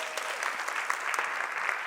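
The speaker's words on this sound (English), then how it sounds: "Charlene Schrick, give her an applause for doing all this" An audience at a women's leadership humorous keynote applauds audio staff member Charlene Schrick, with dense, even clapping filling the space at a steady level.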